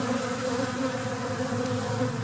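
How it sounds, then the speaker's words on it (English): Bees at a beehive make a continuous, dense buzz during fighting near the entrance, a loud, steady drone that fills the whole stretch with no talking over it. "I've got some fighting going on."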